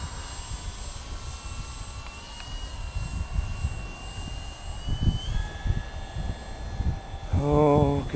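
Avios Grand Tundra 1700mm RC model airplane in flight outdoors, its electric motor a steady distant whine rising in pitch, with wind noise and bursts of gusty rumble throughout.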